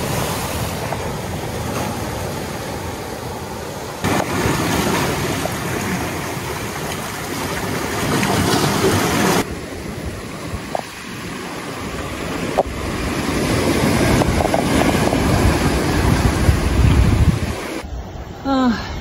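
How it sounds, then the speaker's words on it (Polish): Sea waves breaking on a Sicilian shore, a loud continuous rush and wash of surf with surges and shifts in intensity, close to the listener and heard on its own without talk. "Musiałem uciekać, bo mnie fale atakują."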